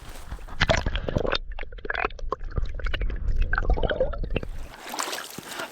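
A trout is released back into a stream, with splashing and trickling water close by in irregular bursts, then quieter flowing water at the end.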